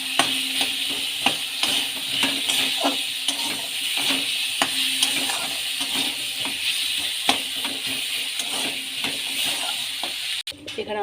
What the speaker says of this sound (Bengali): এই যে তেলে সরষে ফোড়ন দিয়েছি, এবার আমগুলো দিয়ে দেবো।